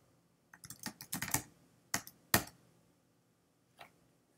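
Keystrokes on a computer keyboard while entering code, a quick burst of a dozen or so clicks followed by a few isolated taps, close and fairly quiet with no talk.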